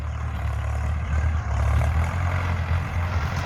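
A heavy single-cylinder Ford tractor diesel engine rumbles steadily nearby, a loud low drone that swells slightly midway and keeps running.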